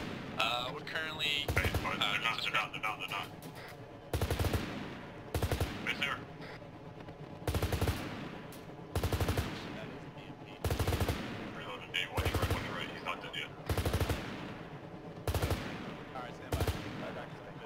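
Repeated bursts of automatic gunfire in the ARMA 3 military game, several loud sharp volleys spaced a few seconds apart across the clip, with men's radio chatter between them.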